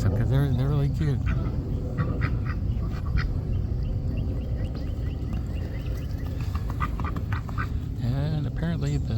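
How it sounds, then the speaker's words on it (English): Ducks quacking nearby on the grounds of a Florida winery, with repeated honking quacks in bursts at the start and end and people talking over steady outdoor background noise. "And apparently the duck likes to chase them."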